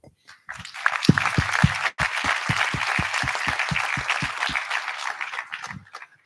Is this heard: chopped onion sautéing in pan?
no